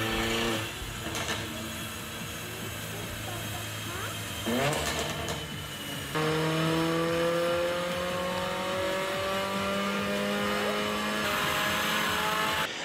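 Exhaust pops and bangs from a car's built-in cracker system, with sharp crackles between throttle blips and revs and a sustained engine drone. Loud and close throughout, with some talk.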